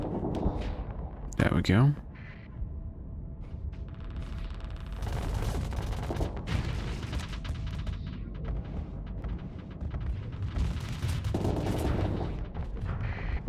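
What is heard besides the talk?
ship weapons firing in a video game (Hegemony AI battle)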